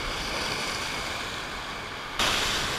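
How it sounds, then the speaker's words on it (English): Big ocean waves break on the shore at Montauk during night surf casting, a steady roaring wash with a louder surge near the end, alone and without talk. "Big waves coming in."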